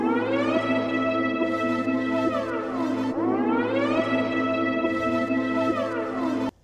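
A layered synth lead in a producer's beat gliding up an octave, with bright stacked harmonics sliding smoothly between notes in two repeating phrases, loud and alone until it cuts off.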